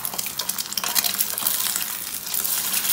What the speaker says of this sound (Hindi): दोनों जो एग्स हैं वो हमारे फ्राई हो चुके हैं